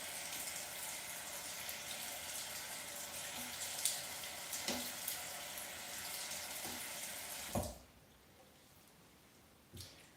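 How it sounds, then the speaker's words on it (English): Water poured over a section of curly hair while standing in a bathroom, a steady trickling splash that stops abruptly near the end, followed by a faint drip. "take a little bit of water, and just pour it over this section again"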